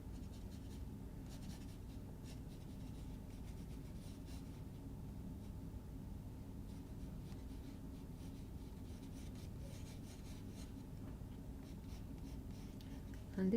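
A pencil sketches in a small sketchbook, giving a faint continuous scratchy rubbing with quick strokes, close and quiet, alone without talk.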